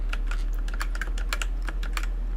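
Computer keys being pressed in quick succession, a close, crisp run of clicky taps at an uneven rhythm over a steady low electrical hum.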